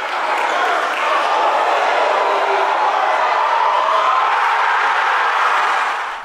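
A packed college basketball crowd roars and cheers continuously and loudly in an indoor arena during a heated HBCU rivalry game between WSSU and Livingstone, a dense sustained wall of noise with no break.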